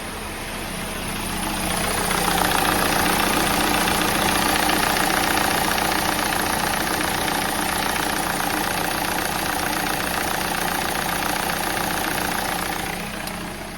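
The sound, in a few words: engine knocking on a 2014 VW Passat 1.8L turbo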